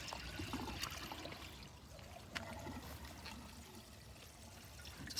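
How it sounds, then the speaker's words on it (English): Water poured by hand into a pump during maintenance, a soft continuous trickle and splash that runs steadily for several seconds at close range with no talking. "just put some water in it."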